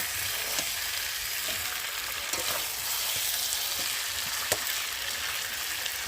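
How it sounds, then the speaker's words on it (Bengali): Chicken leg pieces stir-fry with tomato and turmeric in a hot pan, giving a dense, continuous sizzle broken by a few sharp spatula scrapes and clicks, close and with no voices. "চলো বন্ধুরা একটু ভালোভাবে কষিয়ে দিই।"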